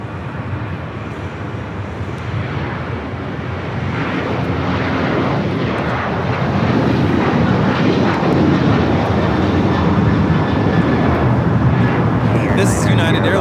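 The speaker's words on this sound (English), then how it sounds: "This is United Airlines 1298 taking off to Tampa, Florida on the 737-900ER." United Airlines Boeing 737-900ER jet taking off at LAX, engine roar building from a moderate rumble to a loud, sustained broadband thunder, with people talking faintly underneath.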